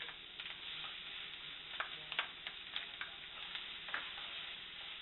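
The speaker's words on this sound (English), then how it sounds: "Our pan is quite hot now, so we're going to go ahead and put our onions in there" Chopped red onions sizzling in a hot pan with a little canola oil, a steady soft hiss broken by faint crackles and pops, with no talking.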